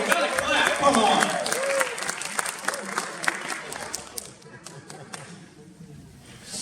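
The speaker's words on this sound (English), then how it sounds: "This is where you clap, guys." A live comedy show audience claps and cheers, with a dense burst of applause that thins into scattered individual claps near the end, mixed with crowd voices.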